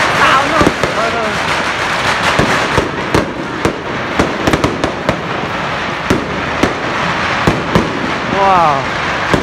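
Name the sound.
fireworks exploding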